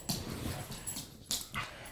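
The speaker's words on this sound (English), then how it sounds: "Here's my dog." A dog whimpers and yips in several short, high, close-up bursts, uneven whines coming in quick succession with brief pauses between them.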